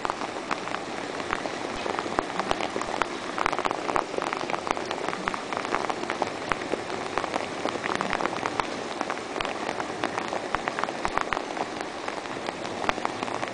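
Steady May rain patters on surfaces outdoors, a dense continuous hiss of drops with scattered sharper splashes, no voices.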